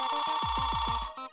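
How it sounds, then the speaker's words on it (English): A landline telephone rings after a ring-test code is dialed, giving a rapid electronic warble of repeated pulses, loud and close, with a brief break near the end. "hang it up, and in a couple of seconds the phone will ring."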